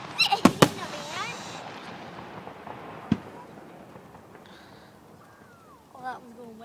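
Fireworks burst in a quick cluster of sharp cracks and pops at the start, with a later single bang, crackling fizz trailing between them, and people talking and exclaiming faintly in the background.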